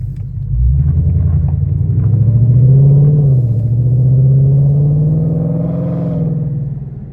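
A Ford Mustang GTD in sport mode drives with a loud, deep engine rumble close by. Its pitch swells and eases as the car accelerates steadily with no talk.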